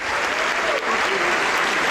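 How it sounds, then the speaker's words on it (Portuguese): Steady applause from a church congregation during a sermon, dense and sustained throughout with no pauses. "Vem para cá, vamos aplaudir mais."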